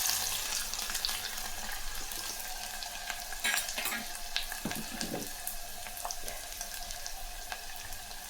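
Mustard seeds and onion fry in hot oil, a dense crackling sizzle with scattered pops and spatters, steady and close for the whole stretch with a brief scraping stir midway.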